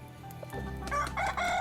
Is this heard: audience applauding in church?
no